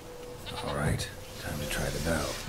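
A goat bleats several times in short, wavering cries over a steady game soundscape, fairly close and clear.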